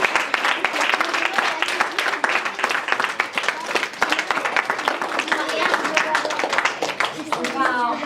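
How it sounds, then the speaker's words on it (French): Sustained applause and clapping from a school audience after a performance by a children's troupe, dense and steady throughout, with some crowd voices mixed in. "On peut encore les applaudir."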